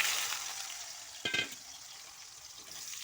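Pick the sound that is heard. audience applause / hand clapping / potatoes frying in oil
potatoes frying in oil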